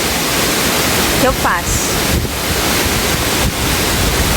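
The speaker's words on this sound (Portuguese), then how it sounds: "A água vem lá de cima com uma força e ele não sai dali." Rushing water from a waterfall pouring down with great force roars loud and steady at close range, a broad continuous wash, while someone briefly speaks over it.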